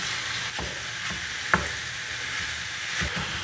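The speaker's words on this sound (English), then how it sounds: "go over to the cooktop, start cooking up the sausage" Breakfast sausage crumbling and frying on a cooktop, a steady sizzle broken by several soft scraping knocks of a spatula against the pan, one sharper click in the middle.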